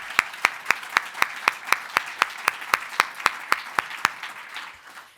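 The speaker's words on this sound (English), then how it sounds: "So let's give him a round of applause." Clapping for a speaker at a consumer finance forum comes as sharp, evenly spaced claps, about four a second in a steady beat, before fading out at the end.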